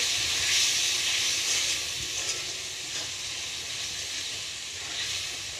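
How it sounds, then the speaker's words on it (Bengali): Ginger-garlic masala frying in a pan sizzles strongly after a splash of water, a dense, close hiss that swells and eases slightly over a few seconds, with no voices. "তো আমি এটার মধ্যে একটু জল অ্যাড করব, একটু মশলাটা একটু ভাজা ভাজা করার জন্য"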